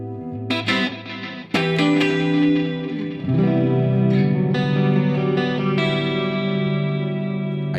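An electric guitar runs through a delay effect on a Fractal preset modeled on a Bogner Uberschall amp, playing sustained chords and single picked notes that ring out with repeating echoes, loud and alone without voices.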